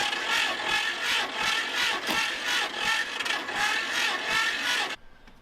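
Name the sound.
John Deere Model A tractor engine cranking, trying to start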